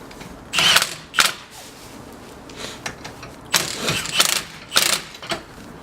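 A ratchet snugs the 21 mm wheel hub bolts on a 2009 Lexus IS250 AWD during a hub replacement. Close, sharp bursts of rapid clicking come in about six short strokes separated by brief pauses.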